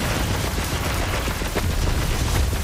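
Borderlands 3 gunfire, a dense, continuous barrage of rapid shots and impacts, loud and close throughout without a pause.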